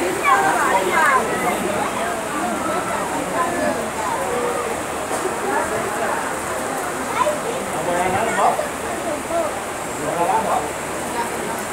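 Steady rain falling during an under-11 youth football match in Piauí, Brazil, a constant wash of hiss beneath a commentator's ongoing talk and faint crowd noise.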